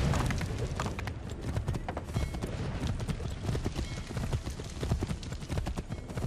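Horse hooves clip-clopping in a steady, busy rhythm while riding in the video game Assassin's Creed 3, dense and continuous with game ambience underneath.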